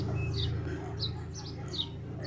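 Pigeons in a home loft give brief, faint chirping calls several times over a low, steady background hum, with no talk.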